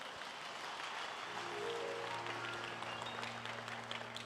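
A church congregation applauds in a steady, full burst of clapping, with a sustained low musical tone underneath from about a third of the way in.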